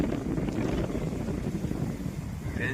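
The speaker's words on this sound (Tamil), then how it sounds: "நல்லா காற்று அடிக்குது." Steady wind gusting outdoors on a morning, a continuous low rumbling buffet across the microphone that holds at an even, fairly loud level throughout with no voices.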